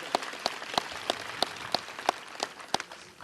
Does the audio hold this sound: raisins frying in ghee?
no